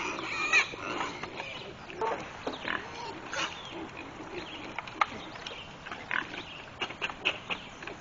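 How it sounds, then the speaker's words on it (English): Pigs grunt and squeal while crowding around feeding dishes on a farm, with scattered low grunts and sharper snorts at close range over a quiet outdoor background. "The piggies are all over there."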